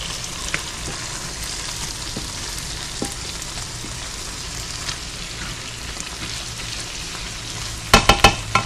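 Seasoning being stirred into ackee and saltfish in a pan, a steady soft sizzle running throughout, with a few sharp utensil clicks against the pan near the end.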